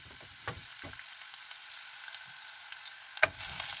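Onions dropped into hot oil for a tomato sauce give a faint, quiet sizzle with a few light clatters and stirring touches scattered through a short stretch.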